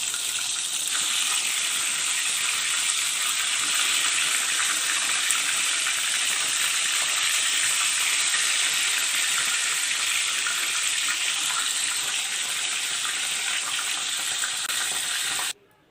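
Fish sizzling steadily in a pan over medium heat for a masala fish fry, a loud, even hiss of frying oil that runs unbroken and then cuts off abruptly at the end.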